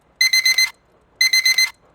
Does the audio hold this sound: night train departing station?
no